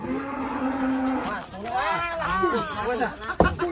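A giant Qurban sacrificial cow moos in a long, low, steady call, followed by lively voices of people talking nearby.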